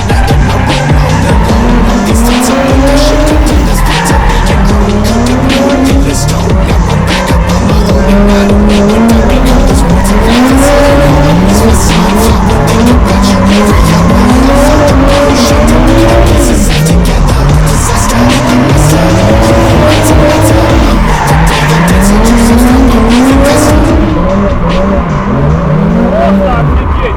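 A drift car, compared against an Opel, revs hard with its engine rising and falling in repeated sweeps while the tires squeal and skid continuously. The sound is loud and close, and someone talks over it.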